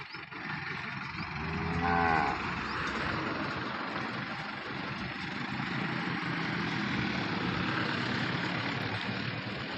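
Cattle on a farm, five cows kept for sale, moo clearly around two seconds into the clip, with a steady outdoor hum and faint engine idling beneath.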